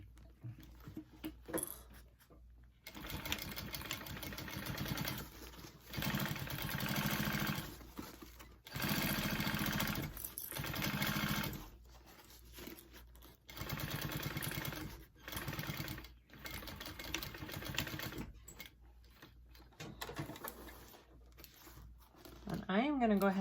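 A sewing machine stitches a seam on a mini backpack in repeated bursts of rapid mechanical whirring and needle chatter, stopping and starting several times with quiet gaps between runs.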